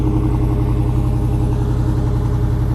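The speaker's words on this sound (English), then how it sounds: "Here go cold start for y'all" A Dodge Challenger R/T engine runs right after a cold start, with a loud, steady, low throbbing idle close by and an even pulsing rumble throughout, alone without voices.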